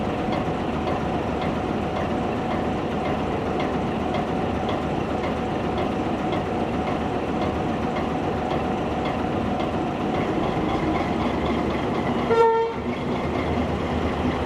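Diesel locomotive GL112 rumbles steadily throughout as it prepares to pull a shuttle train in New South Wales, then gives one brief horn toot near the end before the engine noise carries on.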